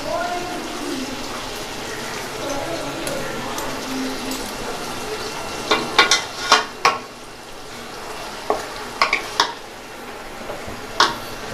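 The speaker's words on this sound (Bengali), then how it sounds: "তো আমরা এটাকে ভালো করে নেড়ে নেব" Chicken biryani is stirred in a pot, a sizzling frying hiss running throughout, with clusters of sharp spoon-on-metal scrapes and clinks, and a voice talking in the first part.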